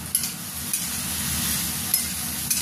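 Broccoli, sweet corn, mushrooms and capsicum fry in a pan, giving a steady close hiss and sizzle with a few soft scrapes of stirring.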